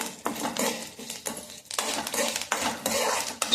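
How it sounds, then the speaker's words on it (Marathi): Green chilies and curry leaves roasting in a pan, with a metal spoon scraping and clinking against the pan in repeated bursts, close and fairly loud over a soft background. "मिरची आणि कढीपत्ता छान असं भाजून घ्यायचं"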